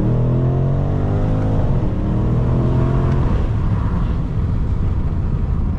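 BMW M550i running a stock exhaust with only the resonator deleted, driven on back roads, its engine note loud and continuous with harmonics that rise and fall as it accelerates and shifts, with no talking.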